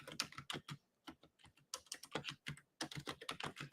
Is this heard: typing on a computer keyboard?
yes